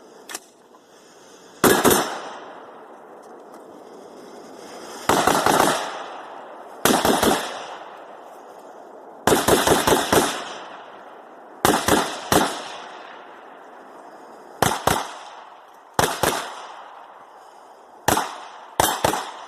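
Rifle and pistol gunfire during urban shooting drills, heard as loud, sharp shots in short clusters and doubles with brief echoing decays, spread across the span with pauses between volleys and no talking.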